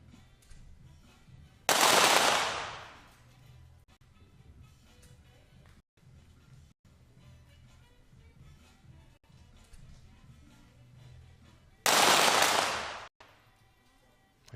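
Pistol shots in a women's 25m pistol shooting competition: two sharp, loud reports, one near two seconds and another near twelve, each with a decaying tail, over quiet range ambience.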